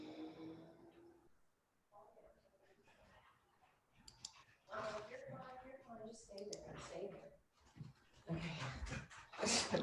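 An old dog whimpers and pants in short broken bursts, close by, mixed with clicking sounds and people talking nearby.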